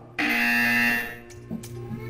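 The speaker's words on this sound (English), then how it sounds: "You will hear a buzzer." Harsh electronic buzzer in Portal 2 sounding once for about a second, loud and tonal, then cutting off and leaving a quieter hum with a couple of faint clicks.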